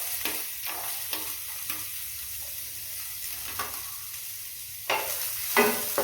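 Chopped onion frying in ghee for soya kheema gives a soft, continuous sizzle, broken by repeated scraping strokes of a spoon stirring the pan, heard close with no talk.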